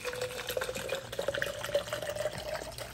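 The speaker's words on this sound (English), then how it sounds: "we're going to pour until it reaches that line" Water is poured steadily into a G-Fuel shaker bottle, a continuous close trickling and splashing with small bubbling bursts as the level rises.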